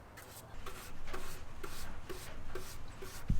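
A rag or brush rubs wood stain along a refurbished desk in a steady back-and-forth rhythm, each stroke a soft close rasp, outdoors with faint ambience and no talking.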